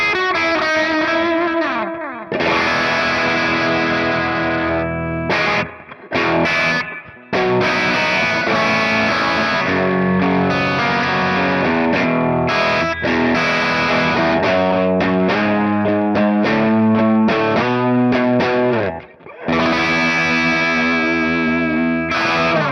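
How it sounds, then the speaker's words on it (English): Suhr Classic Antique Extreme electric guitar on its bridge humbucker, run through effects with distortion and chorus, ringing out loud, dense chords and riffs with a couple of brief pauses, no talk. "Onto the bridge humbucker here."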